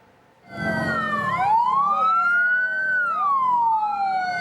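An ambulance siren wails loud and near as ambulances arrive in Sumedang, West Java, carrying victims of a bus crash, its pitch sweeping up and down in long continuous cycles over faint traffic.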